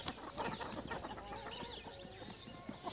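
Free-range desi Aseel roosters and chickens in an open-area farm cluck and chatter in quick, overlapping bursts at close range, with a brief crow-like call, fairly faint overall.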